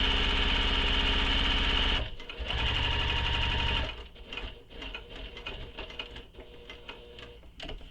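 A sewing machine stitching a bag, running loud and steady for a few seconds, pausing briefly, then resuming before slowing into a looser, irregular chatter of stitches and handling clicks.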